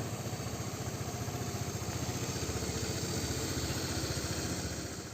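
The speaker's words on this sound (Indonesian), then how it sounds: "mesin jadinya suaranya halus" A Vespa LX 125 scooter engine idles smoothly and steadily at close range, holding a constant even hum for about five seconds with no speech.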